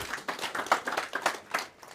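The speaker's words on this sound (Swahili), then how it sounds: "Tuwapigie makofi mazuri." An audience at a memorial celebration of a life claps for just under two seconds, a dense, uneven burst of hand claps close by.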